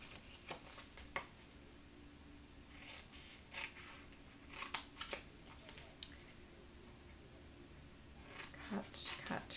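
Scissors cut paper for a party puffin craft project, giving a scattering of quick, quiet snips and clicks while a person talks over them.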